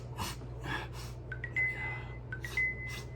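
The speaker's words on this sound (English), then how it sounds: "I don't want to snort too high" Several short, sharp nasal snorts and sniffs of snuff, close to the microphone, with a faint whistling tone in between.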